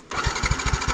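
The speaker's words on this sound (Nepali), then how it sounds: "अब मेरो बाइक स्टार्टै हुँदैन।" A motorcycle starter cranks a stalled engine on a muddy mountain trail in Nepal, a rapid rhythmic churning of repeated pulses that never catches, close and fairly loud for about a second.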